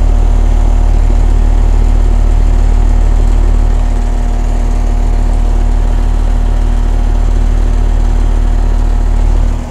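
Carrier air conditioning condenser unit running a little noisier than usual, a steady loud hum with a rapid mechanical pulse and a constant drone, close by and with no talk.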